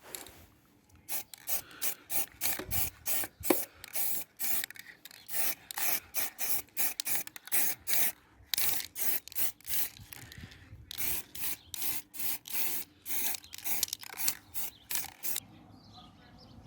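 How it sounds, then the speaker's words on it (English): Short rhythmic bursts of spray paint hiss out over and over, close and fairly loud, as motorcycle rims are painted black and yellow, with no talk. "both rims have been just spray painted"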